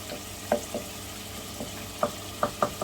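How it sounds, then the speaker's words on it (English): Chopped onions frying in a pan for a chicken curry with butternut squash, the soft sizzle broken by several sharp scrapes and taps as a spoon breaks them up, close by with no talk. "I'm going to try and break the onions up with a spoon"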